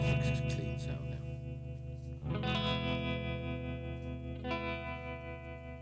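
Electric guitar through a Line 6 Pod 2.0 double tap delay effect, sustained chords ringing with repeating echoes and a chorus-like shimmer, struck again midway and left to decay.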